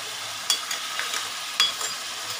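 Shrimp and crab curry simmering in a pan gives a soft, steady bubbling sizzle, broken by two sharper clinks and scrapes of a stirring spoon about a second apart, close and fairly quiet with no talking.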